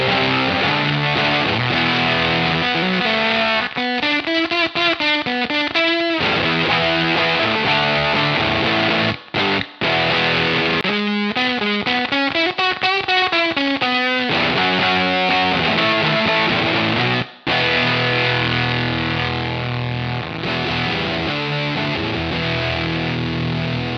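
Electric guitar played through a GHS-version Tone Bender fuzz pedal, thick, distorted and sustained, with chords and bending notes over roughly twenty-four seconds and a few abrupt brief cutoffs.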